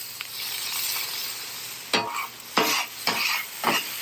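Water splashed onto an overheated flat-top griddle where hash browns will fry, bursting into several loud sizzling hisses in quick succession over a steady background crackle.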